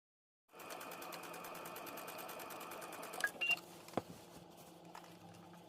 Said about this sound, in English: your invisible zipper foot on your machine, so that you can stitch close to that creased edge there next to the teeth